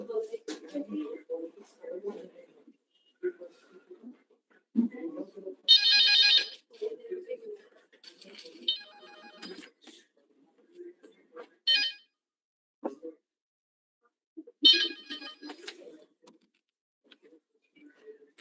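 A phone ringtone chirps in several short bursts during a webinar call, cutting in between stretches of close conversational talk from people on the call.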